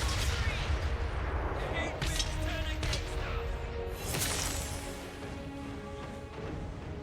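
Cannons fire fireballs across a battlefield in the Total War: Warhammer video game, with booming blasts and crackling impacts over a dense, continuous battle din and rumbling low end.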